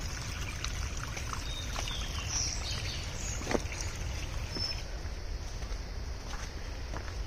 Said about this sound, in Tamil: ஓடையில் தண்ணி போகுது.